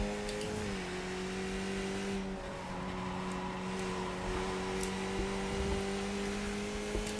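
A Skip Barber race car laps Spa in the iRacing simulator, its engine droning steadily with a sustained, slightly shifting whine and no voices over it.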